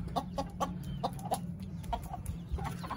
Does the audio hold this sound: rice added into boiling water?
no